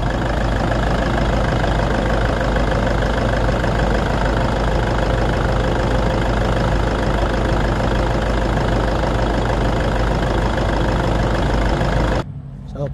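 Toyota diesel engine, as fitted to the Innova, Hilux or Fortuner, idling steadily after a fuel filter change, a loud, even clatter and rumble that runs unbroken before cutting out near the end.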